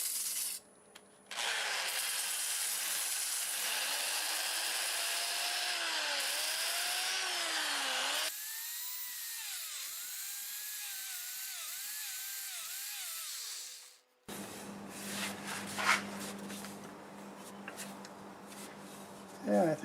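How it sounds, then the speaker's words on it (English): Sandpaper of 80 grit rubbing against a turned sequoia wood vase spinning on a lathe, a steady close abrasive hiss over the motor's rising and falling whine, cutting off abruptly near the end. "I'll just go over this with 80 grit for now"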